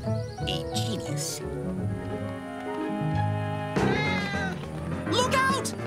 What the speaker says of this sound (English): Look out! Cat attack!